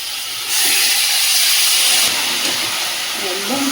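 Bombay duck fish goes into hot oil with fried coriander-spiced masala, and a loud broadband hiss of sizzling erupts suddenly and holds steady, easing slightly after a couple of seconds as low stirring sounds appear.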